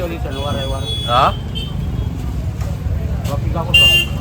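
Busy evening road traffic with vehicle hum and a brief horn-like toot, heard under a person talking nearby.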